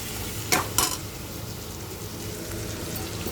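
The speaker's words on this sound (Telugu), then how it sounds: "ఇందులోనే చికెన్ మసాలా వేసుకోవాలి" Chicken frying in a pan with chicken masala, a steady close sizzle with two sharp scraping stirs near the start.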